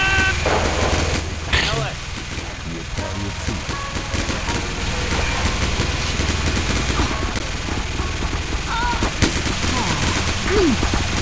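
Minigun fire in the video game Left 4 Dead 2: dense, continuous game gunfire and noisy action throughout, loud and close, with players talking over it.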